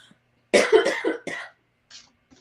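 A short burst of several harsh allergy coughs close up, followed by a couple of faint throat sounds.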